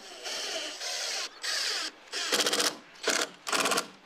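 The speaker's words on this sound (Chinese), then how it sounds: "我把整个底座拿过来，用螺丝拧到我屋檐下面的木头上" Screws driven through a camera floodlight base into the wooden underside of a house eave, with a power driver whirring in several short bursts, the later ones buzzing and ratcheting louder as the screws bite.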